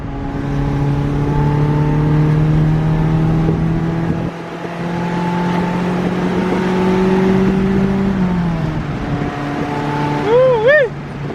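Inside a slammed Acura Integra riding on newly installed coilover suspension, a steady engine drone and road noise run throughout, with a brief dip midway and a rising whine near the end, while people talk over it.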